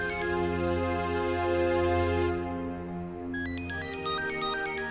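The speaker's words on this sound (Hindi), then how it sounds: "शायद उसी का फोन होगा।" A phone ringtone plays a melodic electronic tune, steady and fairly loud, shifting to a brighter chiming pattern toward the end.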